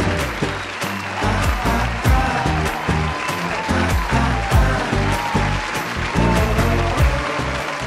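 Full-hall audience applause welcoming actor Harish Kalyan, hero of the film Diesel, onto a stage, loud dense clapping with sharp accents continuing throughout without pause.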